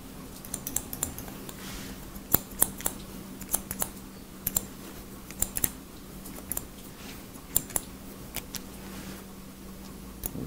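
Scissors snip hair during a men's crop haircut, irregular sharp metallic clicks close up over a low steady hum, with no voices.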